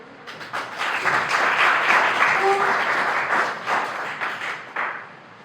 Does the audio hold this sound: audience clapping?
yes